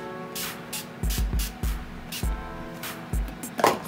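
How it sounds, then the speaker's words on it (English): Makeup setting spray misted onto a face in a series of short pumped bursts, crisp hissy sprays repeated quickly and close to the mic with no talking. "Spray that face."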